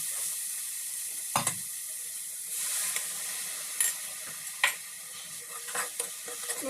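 Spices for a matar paneer masala sizzle steadily in a pan with a little water and paste, broken by several short scraping stirs of a spoon.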